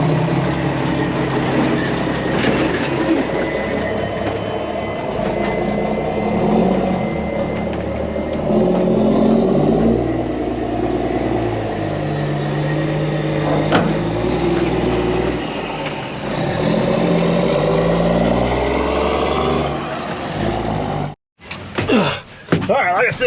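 A loaded truck pulls out hauling very sticky dirt in a Demco side dump trailer, its steady engine rumble and rattling body going on throughout, close and loud, before a brief dropout near the end.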